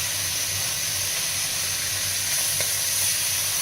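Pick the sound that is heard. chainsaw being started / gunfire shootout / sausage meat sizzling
sausage meat sizzling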